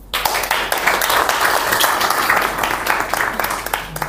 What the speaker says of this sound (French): Nous pouvons nous applaudir.